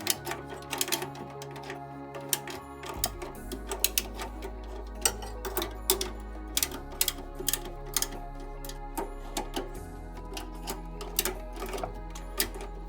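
A repaired MIG practice welder lays a bead, giving a steady electric buzz broken by crackling, sputtering pops in uneven bursts, close and fairly quiet with no talking.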